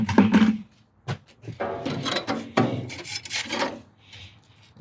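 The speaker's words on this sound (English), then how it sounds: "let's see if we can just go ahead and scrape that in place as well" A scraper grinds buildup off a gas grill in a run of rough, close rasping strokes. The strokes come in uneven bursts, broken by short gaps and a few sharp knocks.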